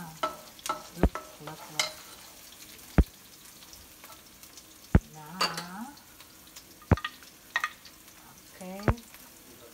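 Shrimp fry in a pan for garlic and oyster sauce fried rice, a soft sizzle under sharp, evenly spaced clacks of a utensil stirring against the pan, while someone speaks occasionally.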